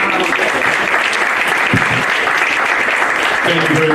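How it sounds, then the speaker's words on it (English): Loud, sustained audience applause at a summer camp graduation, thick crowd clapping close up and steady for the whole stretch. "Let's give him a round of applause."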